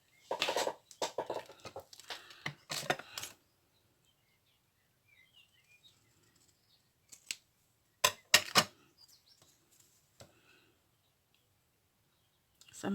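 Scissors cutting paper while trimming a piece for a handmade mini planner, a few short crisp snips in two bursts with quiet pauses between, close up and alone.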